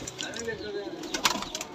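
Pigeons for sale in Lahore, including a golden pattha, coo softly close by with some brief rustles, while someone talks over them.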